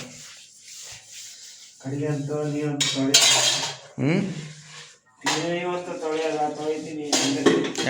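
Plates and dishes clatter and clink during washing, in brief bursts under people talking.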